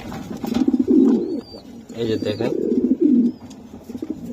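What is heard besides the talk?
pigeons cooing, New Order pigeon breed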